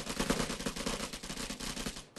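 Rapid automatic gunfire rattles in the video game Vigor, a dense, continuous burst of closely spaced shots, loud and near, with no talk over it.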